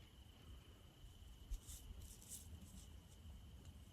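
Crickets chirping at night outdoors, a steady high, faint trill running continuously in the background, with no talking.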